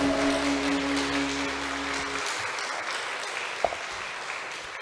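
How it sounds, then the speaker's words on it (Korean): A church congregation claps together in broadband applause that continues steadily throughout, with sustained musical tones underneath at first, then fading out, and a single sharp knock near the end. "하나님께 영광의 박수 올려드립니다"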